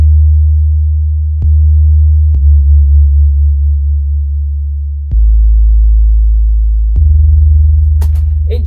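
A distorted, over-looping 808 kick in FL Studio booms as loud, sustained low tones that overlap and shift pitch, with brief clicks where notes restart and no voices.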